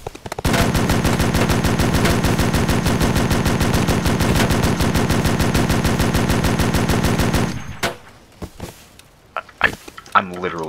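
Sustained automatic fire from a .50 cal machine gun in the BRM5 shooter game, a loud, rapid, unbroken stream of shots for about seven seconds before cutting off to scattered quieter noises.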